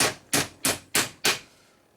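Five sharp metallic hammer blows struck at a steady, even pace while shimming a Harley WLA flathead transmission, each ringing briefly before the next, with no talking.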